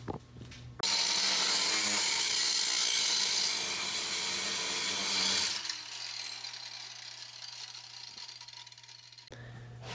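Rough, steady mechanical grinding and ratcheting while a rusted bolt on a car is worked loose during rust repair, loud and continuous for several seconds before it drops to a quieter rattle, with no talking.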